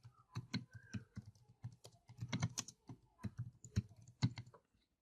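Text is typed on a computer keyboard during a WordPress installation, with irregular, close keystrokes clattering alone in short flurries.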